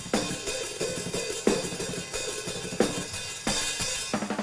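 Close-miked hi-hats on a modern metal drum kit tick in a steady pattern with sharp, bright hits and occasional heavier accents, the cymbal ring tamed by EQ cuts.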